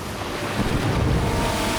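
Wild North Sea storm with extreme winds and huge waves battering a ship, a dense, continuous roar of wind and surging surf that swells louder midway, with no voices present.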